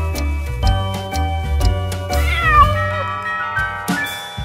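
In a Tamil nursery rhyme animation of Hickory Dickory Dock, a cartoon cat meows once in a long wavering call over a bouncy musical backing with regular tick-like beats.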